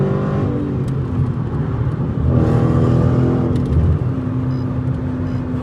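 Straight-piped Dodge Challenger Scat Pack being driven, heard from inside the cabin with the windows up: a steady, loud engine drone with a brief swell in revs, no talking.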